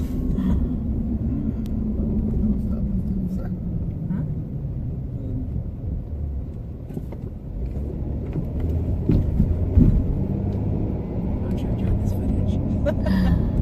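A car drives through the streets of Detroit, its low road rumble and engine drone steady throughout with occasional bumps, under near-continuous conversation from people inside.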